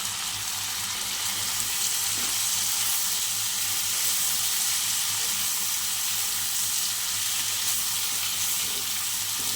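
Cauliflower fries in a pan of spiced oil, giving a steady, even hiss of sizzling that runs without pause at moderate level, with no voices.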